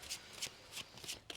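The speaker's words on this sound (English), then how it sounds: "I'm shuffling it back in for the record." Tarot cards being shuffled by hand, several quick riffling bursts in an uneven rhythm, close and soft, with no talking.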